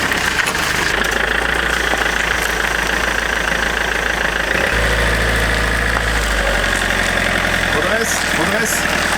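Camper van engine idling and revving loudly, a continuous low rumble with shifts in pitch as the throttle changes and the wheels are made to slip, heard close and steady throughout.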